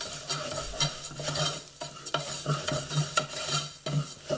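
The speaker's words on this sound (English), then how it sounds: "And then just mix it so it's coated nicely." Bulgur and lentils being stirred with olive oil in a pot, steady scraping and rustling of the spoon with soft sizzling underneath, rhythmic and close, no voices.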